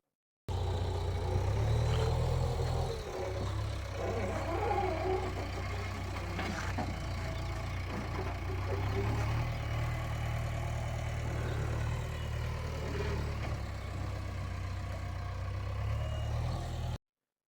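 Tractor engine hauling away garbage from a cleanup site, a steady low diesel rumble idling and chugging continuously at moderate distance, with faint background noise and no clear speech.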